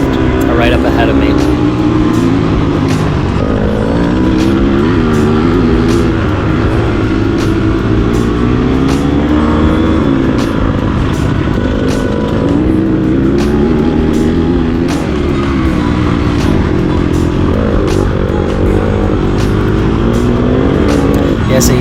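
An off-road racing motorcycle engine screams continuously through a flat-out lap, its pitch rising and falling with each shift and corner while a rider's voice talks over it.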